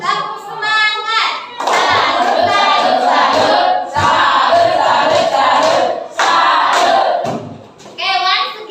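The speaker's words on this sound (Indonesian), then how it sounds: "kita memberikan semangat kepada diri kita sendiri dengan tepuk semangat" Group of people doing a rhythmic spirit clap, bursts of loud collective clapping and shouting in repeated patterns, with a voice leading between rounds.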